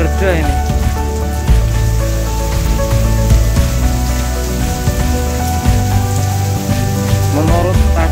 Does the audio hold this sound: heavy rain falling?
yes